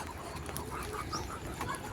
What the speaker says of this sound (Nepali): यो हाम्रो चाहिँ हाँस यहाँनिर आएर खेलिराखेको छ